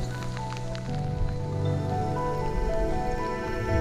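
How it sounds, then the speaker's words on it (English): Steady rain falls along Scotland's West Highland Way hiking trail, a dense, continuous patter close by with no voices. "The rain never hurt anyone."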